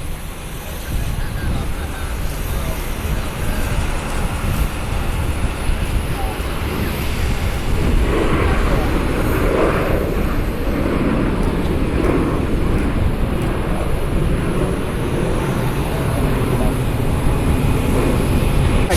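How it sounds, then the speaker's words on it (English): An Eastern Airlines Boeing 767-200 inbound on approach, a broad distant jet roar that swells in the middle and stays steady under wind noise at the airport. "It's a 767-200 inbound from Kansas City"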